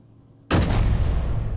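Cannons on a custom-built Mammoth tank in a video game fire with one sudden, loud blast that booms and rumbles on, with no talk over it.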